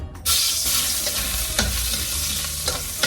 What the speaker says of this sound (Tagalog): Unahin po natin igisa ang luya instead of bawang and sibuyas.